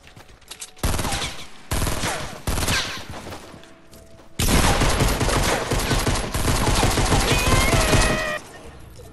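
Rapid, loud bursts of automatic gunfire from a shooter video game, several volleys separated by brief pauses, then one long sustained barrage, with no talking over it.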